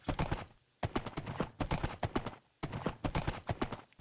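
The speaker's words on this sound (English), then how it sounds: "I love how easy horses can get up hills" Horse hooves in the video game Minecraft clip-clop steadily uphill in quick, even bursts of thuds with brief pauses between them, close and clear with no talk over them.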